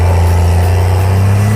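A Cummins diesel engine fitted in a Cadillac, pulling away slowly under its own power: a loud, steady, low engine drone heard close for a brief moment.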